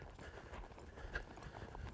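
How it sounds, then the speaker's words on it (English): Faint, steady clip-clop of a young colt trotting under saddle at an even pace, the hoofbeats quiet and somewhat distant with no voices. "I've got him trotting at the speed I want him to be trotting at."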